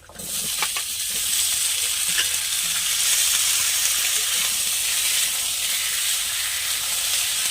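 Kohlrabi sizzling and frying in hot oil with green chili tempering and onion, a loud, steady broadband sizzle running throughout with a few brief stirring clicks near the start.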